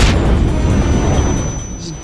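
Explosions on the Dubai carrier level of the Call of Duty video game, heard as a loud, dense roaring boom that fills the whole short stretch and slowly fades.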